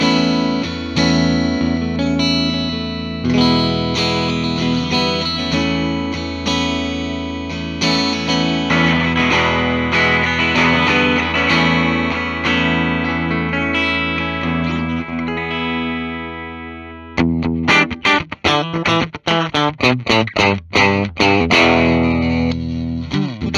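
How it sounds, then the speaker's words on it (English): A HEX W300 electric guitar with its pickups in coil-split mode plays loud, distorted chorus-laden chords and sustained notes, shifting after about seventeen seconds into choppy, staccato strummed hits, with no talking. "Now let's try the coil split option."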